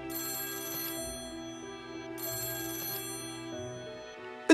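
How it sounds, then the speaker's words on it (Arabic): A telephone rings with an electronic bell tone in two bursts separated by a short pause, loud and close, with no voices. "التليفون مش بيسكت"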